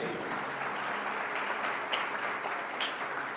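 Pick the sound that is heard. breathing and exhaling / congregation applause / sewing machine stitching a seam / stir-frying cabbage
congregation applause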